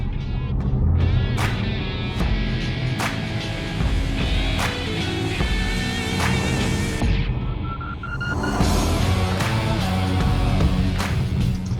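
A TANK SUV, an affordable Chinese-brand model, drives along a road with a steady engine and tyre roar throughout, dense and close, with occasional sharp clicks and a brief dip near the middle.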